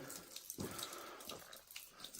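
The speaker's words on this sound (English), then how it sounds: "There's a good bit of water dripping off those stalactites and what have you." Water dripping and trickling off stalactites at the top of a large room in Pettyjohn's Cave, a steady wet patter with a few louder splashes, close by and echoing, with no voices.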